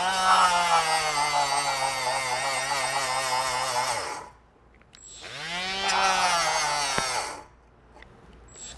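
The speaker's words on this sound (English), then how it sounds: "I'm hoping this stainless wire wheel will be enough to buff this back to a bright metal." A Milwaukee power tool fitted with a stainless wire wheel buffs oxidized metal: a loud, close whine holds for about four seconds, drops away, spins up again for a second burst, then cuts out.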